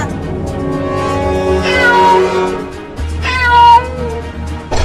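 Cartoon cat meowing loudly and close, two long drawn-out wailing meows with a pause between them over a low background hum.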